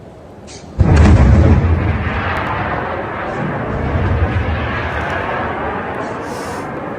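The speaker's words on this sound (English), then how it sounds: "So I'm going to show you right now what this missile looks like when it gets through the interceptors" A missile that has slipped past interceptors explodes with a sudden loud boom, followed by a long rolling rumble that fades slowly, with a faint distant crack near the end.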